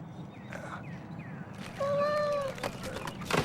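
A cat meows once in a lottery TV commercial, a drawn-out, mid-loud meow rising out of a busy background of low murmur and noise.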